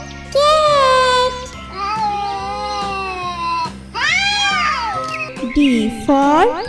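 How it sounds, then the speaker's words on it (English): A cat meows several times in a row, loud and close, the drawn-out calls rising and falling with short gaps, over a light musical backing in a nursery-rhyme setting. "C for cat"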